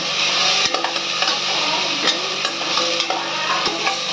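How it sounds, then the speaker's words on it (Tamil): Ingredients for tomato rice sautéing in hot oil in a pan, a loud continuous sizzle with light scrapes and taps of a spoon as they are stirred, close and without speech. "இதையும் நல்லா வதக்குங்க"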